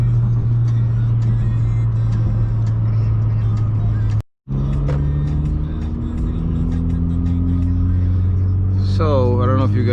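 A car engine idles while warming up before a pull, a steady low rumble close by that continues through a brief dropout midway, with a faint higher whine near the end.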